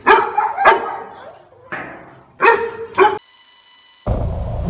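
A dog barks in several sharp, loud bursts, two quick barks, a pause, then another pair, heard close by during a road trip near Monal outside Islamabad, with a steady tonal hum and rumble following.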